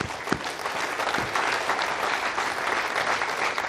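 A crowd claps steadily at the Vega VV02 rocket launch event, a dense, continuous patter of many hands that holds at the same level from start to finish.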